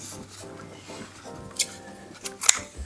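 Scissors snip through cloth ribbon during Christmas gift wrapping: two short, crisp cuts near the end, over a soft, steady background.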